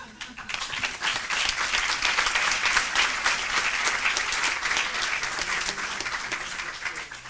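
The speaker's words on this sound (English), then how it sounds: "let's warmly applaud our speakers again" An audience at the World Inequality Conference gives its speakers sustained, dense applause, steady and fairly loud from start to finish with a faint murmur of voices underneath.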